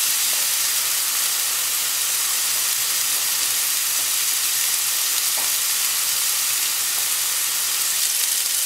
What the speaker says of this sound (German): Und bleiben beide 3 Minuten auf jeder Seite in der Pfanne.